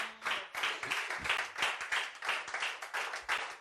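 A church congregation claps in rhythm to acclaim the Lord, brisk steady beats with a few voices mixed in, moderately close but fairly soft overall.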